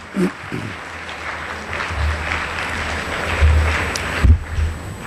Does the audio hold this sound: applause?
yes